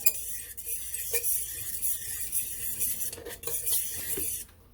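A utensil stirs cornstarch into the sauce of ranch chicken in a crockpot, giving continuous close scraping and light clinks against the pot with no voices.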